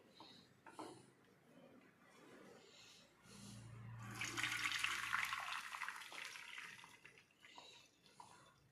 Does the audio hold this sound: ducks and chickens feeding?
no